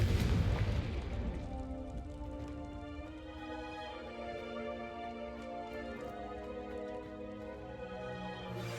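A Confringo fire spell explodes in Hogwarts Legacy, a sharp booming burst at the start that fades into a long, ringing, tonal tail with steady music-like sustain.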